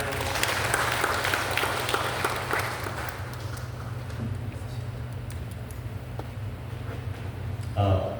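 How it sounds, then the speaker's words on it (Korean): An audience at a redevelopment briefing applauds to welcome a speaker, with light, scattered clapping over a steady low hum. It thins out toward the end before a brief louder burst. "박수 부탁드리겠습니다"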